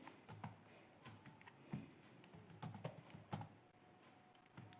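Keys clatter on a computer keyboard as a table name is typed into an SQL query in MS Access, a quiet run of irregular clicks and taps at close range with no voices.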